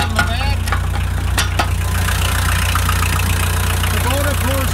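A 1988 Bobcat 743 skid steer with a Kubota four-cylinder diesel idles steadily with a low, even rumble and a faint knocking rhythm, while someone talks over it nearby.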